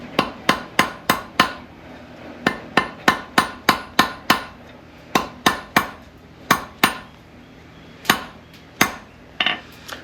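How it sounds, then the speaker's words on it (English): Slightly rounded hammer striking hot steel on a flat anvil during blacksmith forging, sharp ringing blows in quick bursts of four to six with short pauses, close and clear with no talk. "every time I hit it, because my hammer is a little bit round and the anvil is flat, the steel is going to curve up"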